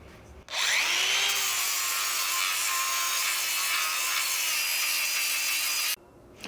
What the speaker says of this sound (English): So I'm going to get to grinding these away.